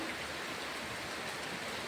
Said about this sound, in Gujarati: જો વરસાદ